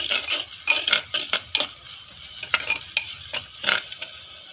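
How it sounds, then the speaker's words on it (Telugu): Shallot paste fries in a pan for a mushroom curry, a close, steady sizzle broken by repeated scraping stirs of a spatula against the metal. "చిన్నుల్లిపాయ పేస్టు 1 అర టీ స్పూను వేసి బాగా వేయించుకోవాలి."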